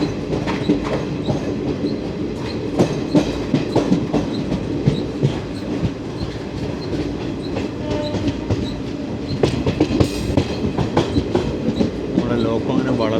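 12076 Jan Shatabdi Express with ICF coaches running on rails near Kollam, rhythmic clickety-clack of wheels over rail joints with rattling carriage noise and occasional squeal, heard from inside the train, loud and continuous.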